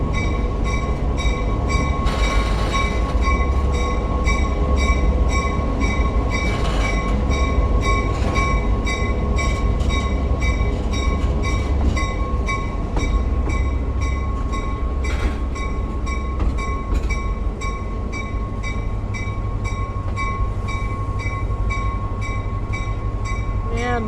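A caboose on the Lehigh Gorge Scenic Railway near Jim Thorpe rolls along the rails from the inside, with a loud steady rumble, rhythmic wheel clatter and occasional sharp squeals and bangs throughout.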